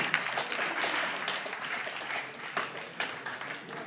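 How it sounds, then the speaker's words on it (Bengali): An audience seated at a gathering applauds together, a steady wash of moderately distant clapping with a few sharper claps standing out, sustained for several seconds. "করতালির মাধ্যমে সবাই মিলে অভিনন্দিত করবেন।"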